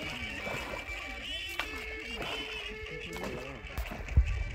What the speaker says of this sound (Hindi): पानी पीने के बाद फिर से पतवार चलाए जा रहे हैं